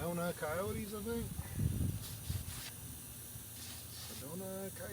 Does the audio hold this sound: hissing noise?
yes